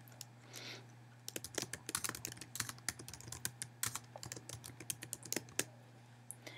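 A chat message is typed on a computer keyboard: rapid, irregular bursts of crisp keystrokes run for several seconds over a low steady hum in a quiet room, with no talking.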